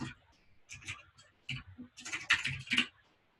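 Typing on a computer keyboard, irregular clusters of light key clicks close to the mic, with someone speaking intermittently over the tapping.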